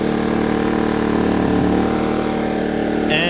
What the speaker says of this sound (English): I don't know if you can hear that on the camera, but the air compressor came right on.